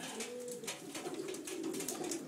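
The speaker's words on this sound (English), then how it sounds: "But he's a tame pigeon" Pigeon cooing in a loft in Puna, Hilo, Hawaii, a steady close run of soft throaty coos over constant bird chatter and rustling from other pigeons.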